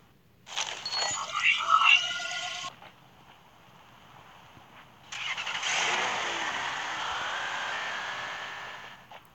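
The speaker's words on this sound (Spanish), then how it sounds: "Ese carro pasó volado enfrente de mí." A car speeds past in the video game Rules of Survival, heard as two loud, broad roaring bursts: a short rough one, then a longer steady rush that fades after a few seconds.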